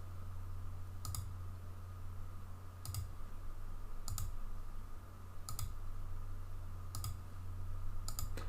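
Computer mouse clicks while selecting and opening image files, six crisp single clicks spaced a second or two apart over a steady low electrical hum.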